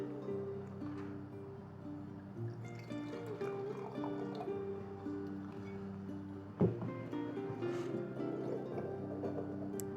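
Czech red wine is poured from a bottle into a glass, a soft liquid gurgle and trickle that runs for several seconds under a low background hum, with one brief clink partway through.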